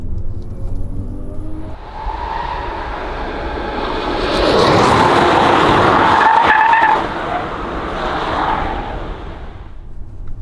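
A 577bhp Kia EV6 GT electric crossover being driven fast on a race circuit, with loud, steady road and motor noise that swells in the middle, plus tyre scrub and squeal through the corners, and no voices.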